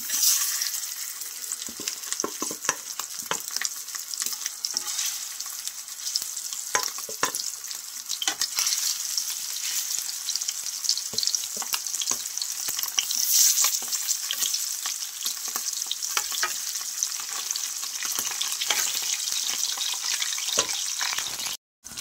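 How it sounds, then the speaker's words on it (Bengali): Pomfret fish frying in a pan of oil, a loud, unbroken hiss of sizzling with scattered crackles and pops throughout, close up and with no voices. "মাছগুলো আমি সব এইভাবে ভেজে নেব।"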